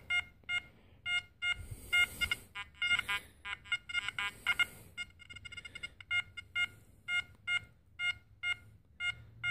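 An XP Deus metal detector sounds a string of high, evenly pulsed beeps as it sweeps over a penny and a nail, repeating rhythmically and fairly loud with faint handling noise underneath.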